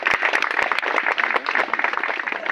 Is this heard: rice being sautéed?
no